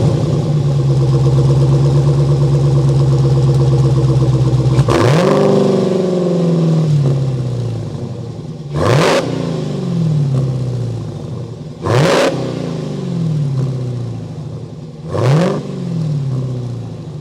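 A Dodge Challenger SRT Hellcat Redeye Widebody's supercharged V8 settles into a loud, rumbling idle, then is blipped hard several times, each rev surging and falling back in a steady rhythm, close by and with no voices.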